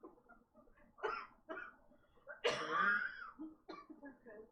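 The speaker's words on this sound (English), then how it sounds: "She coughs a lot as she's telling you this." Several coughs and throat-clearing bursts from a woman, mixed with brief voiced sounds, with one loud harsh cough in the middle and quieter ones before and after.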